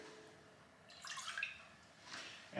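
Water splashes in two short bursts into a measuring jug for sourdough bread dough, a thin trickling pour alone in a quiet kitchen.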